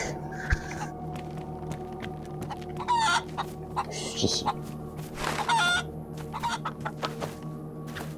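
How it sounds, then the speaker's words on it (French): Rooster crowing and hen-like clucking from a farm-and-shotgun video game, several calls in bursts over a steady low hum of game background, with someone briefly talking over it. "Et là j'ai entendu un coq."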